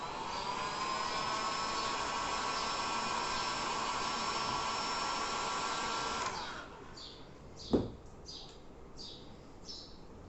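A handheld hair dryer blows steadily on wet paint during a tricot-technique painting demonstration, a close, even whirring hiss that runs about six seconds before switching off, followed by a single sharp knock and faint light taps.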